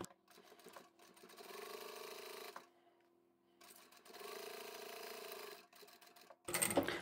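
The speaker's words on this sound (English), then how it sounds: "let's go to the machine and we'll sew both of those separately" A sewing machine stitches fabric in two quiet, steady runs, going forward and then back, with a short pause between them and a sharper burst at the end.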